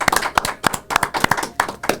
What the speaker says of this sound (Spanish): Un aplauso para Wellington